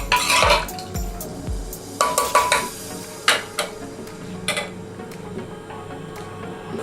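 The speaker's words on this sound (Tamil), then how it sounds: "தேங்காய் பால் ஆட் பண்ணலாம். நல்லா மிக்ஸ் பண்ணிக்கலாம்" Coconut milk is stirred into a mutton gravy, a spoon clinking and scraping against the pot in irregular knocks over a faint simmer.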